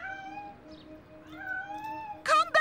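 A cartoon cat gives a drawn-out, wavering meow that rises and falls, followed by a short, sharp, louder yowl at the end.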